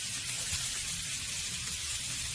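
Onions sear alongside a tenderloin steak in a hot pan, producing an even, continuous hissing sizzle at moderate volume with no voices.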